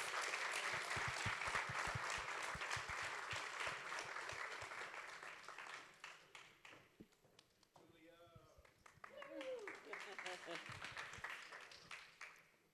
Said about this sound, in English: A warm round of applause, please, for our head coach, Julia Lopez.